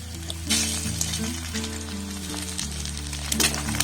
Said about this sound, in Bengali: ডিমটাকে ফাটিয়ে এই তেলের মধ্যে কিন্তু দিয়ে দিতে হবে